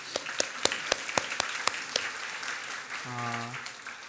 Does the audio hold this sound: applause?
yes